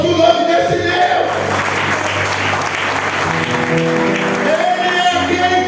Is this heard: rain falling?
no